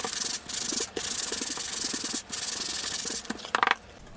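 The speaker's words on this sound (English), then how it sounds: "So then I just sand it down to make it nice and smooth." Wood being hand-sanded for an airfoil with a small sanding block and 150 grit sandpaper: steady, close rasping strokes with brief pauses between passes, no voices.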